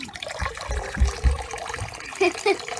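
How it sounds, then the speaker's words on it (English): Water gurgles and trickles in small bursts as it pours into a bath toy, with a few bubbly splashes near the end and faint voices in the background. "Water keeps coming inside."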